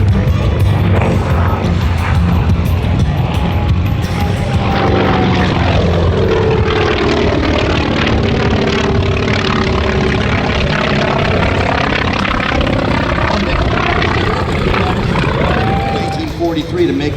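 A Grumman F4F Wildcat warbird propeller fighter performing an aerobatic routine at an airshow in the redwoods, its radial engine droning loud and steady throughout, with pitch sweeping up and down as it passes and maneuvers.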